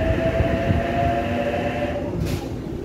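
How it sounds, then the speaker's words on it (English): Sydney suburban train bound for Bondi Junction via Wollongong, a steady close rumble with faint tonal hum lines throughout and no voices. "And this train goes to Bondi Junction via Wollongong."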